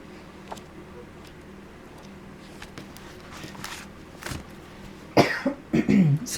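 A person coughs several times in quick bursts in an old-book setting, a couple of harsh, loud coughs close by after quieter rustling and faint footsteps.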